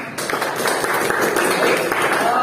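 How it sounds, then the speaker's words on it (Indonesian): Applause from a class of students for the first presenting group at an Indonesian school lesson, a steady wash of clapping close by, held through the whole stretch with no speech over it. "Berikan tepuk tangan."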